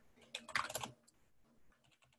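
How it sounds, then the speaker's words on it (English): A command is typed on a computer keyboard: a quick burst of close, quiet keystrokes, then a few fainter scattered taps. "by typing this command"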